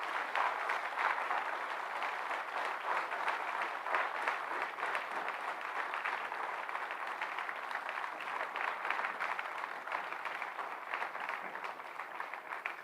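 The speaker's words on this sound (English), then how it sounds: "you should first thank your parents by giving a big round of applause for what they have done for you" Large graduation-day audience applauding steadily for parents, a dense, even wash of clapping that holds at a constant level throughout without breaks.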